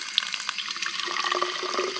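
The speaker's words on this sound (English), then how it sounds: "In the garden, an actual fountain with spring water." A garden fountain fed by spring water splashes and trickles continuously nearby, a steady burbling stream with no voices.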